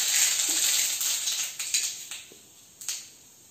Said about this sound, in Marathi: जिरा मोहरी चांगली तडतडली बघा।